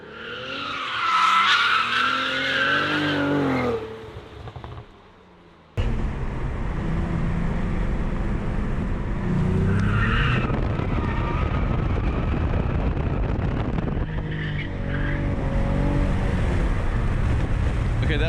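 A Cadillac CT4-V Blackwing drifts on a mountain road: loud engine revving and screeching tires, a brief drop around the middle, then a sustained roar with skidding noise until the end.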